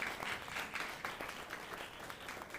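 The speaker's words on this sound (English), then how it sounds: "Give them a round of applause." Audience applause at a panel discussion event, a steady wash of many hands clapping that holds at an even level throughout with no talk over it.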